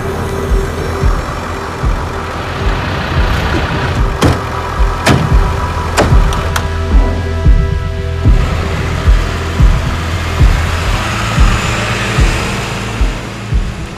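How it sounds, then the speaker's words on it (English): Military vehicles driving toward a border at night, a loud continuous engine rumble with steady low drone and rhythmic pulsing, close by, no talk. "We wait as the vehicles drive towards the border, into darkness."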